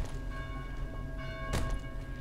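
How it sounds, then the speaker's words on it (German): A bell rings in the zombie video game Dead Island. A sustained metallic tone with ringing overtones sounds over a dense, rumbling game soundscape, with a brief louder burst midway. "Bring die Glocke zum Schweigen."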